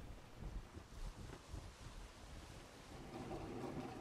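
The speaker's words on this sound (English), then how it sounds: "There's waves. So there's wind." Waves and wind on the open sea in the game Atlas, a faint, steady wash of surf with soft gusts rising and falling around a sailing ship, no voices.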